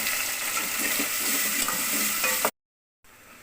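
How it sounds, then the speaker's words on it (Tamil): Tomatoes with a little fresh curry leaf sauté in a pan for a field bean curry, giving a loud, steady sizzle with stirring that stops abruptly, followed by a short silence and a quieter sizzle. "இப்போ பாருங்கள் தக்காளி நல்லா கரைய ஆரம்பிச்சிருச்சு ஓரளவுக்கு நல்லாவே வதங்கிடுச்சு"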